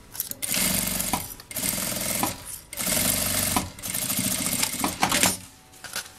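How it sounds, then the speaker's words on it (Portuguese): A sewing machine runs a straight seam along the edge of a bag, tacking a flap to the body, in several bursts of rapid stitching separated by short pauses and small clicks. "E vamos passar uma costura reta bem na beiradinha, só pra segurar mesmo essa aba aqui no corpo."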